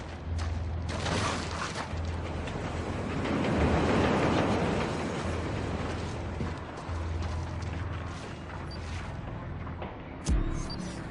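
A continuous heavy rumble of a moving train in a video game train yard, with rolling, roaring noise, swelling in the middle and ending with a sharp thud.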